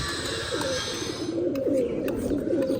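Pigeons cooing nearby in low throaty bursts, with a brief flutter of wings, as a flock of flying pigeons circles high overhead on a festival day; a steady hum fades out midway.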